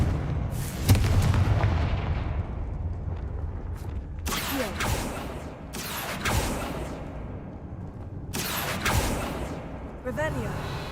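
Repeated Confringo fire-blast spell explosions in the game Hogwarts Legacy on hard difficulty, several sharp booming bursts with rumbling tails spaced a few seconds apart, over a continuous low background of game sound.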